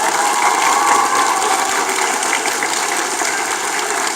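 At a school commemoration night for the Çanakkale Victory, a large audience gives a teacher a sustained, loud roar of applause, dense and even throughout with no clear gaps.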